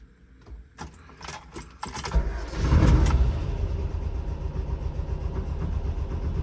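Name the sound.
car engine starting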